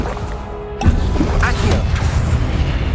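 A Confringo spell explodes in Hogwarts Legacy, a sudden loud blast about a second in that gives way to a dense, rumbling roar carrying on to the end.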